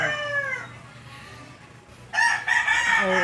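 A neighbor's rooster crows twice: a fading call at the start, a quieter pause, then a loud, close, drawn-out cock-a-doodle-doo near the end, with chickens in the background.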